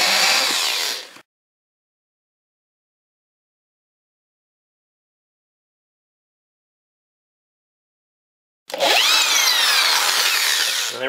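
A power drill backs screws out of the lid of a crate of Bulgarian 7.62x54R ammunition, in two loud close whirring bursts separated by several seconds of silence.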